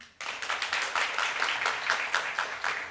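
A conference audience claps together in a dense, steady patter that starts abruptly and continues for a few seconds with no voices over it.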